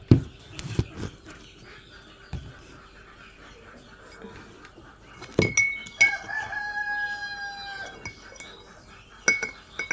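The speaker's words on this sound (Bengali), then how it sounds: "তো আমি এখনই এই ওষুধটা গোলাবো।" Glass vial of duck vaccine being mixed, sharp clinks and taps near the start and again later, with a rooster crowing and fowl clucking in the background.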